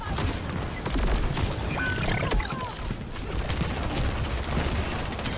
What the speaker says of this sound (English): Lovely shot there from Haley again into the head of the Widow